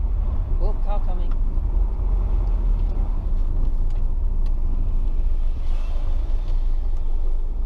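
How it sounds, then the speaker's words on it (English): A car passes by on a road with a 20 mph speed limit, heard as a steady engine rumble and road noise that holds for several seconds, recorded from inside or near a Rover 75 CDT diesel. "Oh, car coming."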